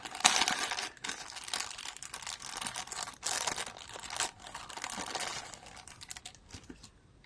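Paper packaging crinkles and rustles while a parcel from Canada is unboxed, with dense, close, irregular crackling bursts that continue steadily, pause briefly, then trail off quieter near the end.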